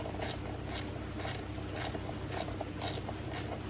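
A ratchet wrench tightening a Heed crash bar bolt below the gear shifter on a 2017 Honda Africa Twin, seven evenly spaced clicking strokes close up over a faint steady hum.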